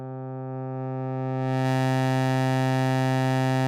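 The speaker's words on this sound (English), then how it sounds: "it will put in that sort of warm tube distortion" A Serum wavetable synth waveform, hand-drawn and run through warm tube distortion, holds a steady buzzing tone rich in harmonics that brightens and grows slightly louder about halfway through, with no voice.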